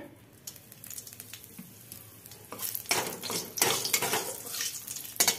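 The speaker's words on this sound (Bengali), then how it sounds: "তেল দিয়ে দিলাম, 2টো শুকনো লঙ্কা ফোড়ন দেব" Two torn dried red chillies tempering in hot oil start with a quiet sizzle, then break into louder, crackling bursts of spitting and stirring clatter in the second half, heard up close.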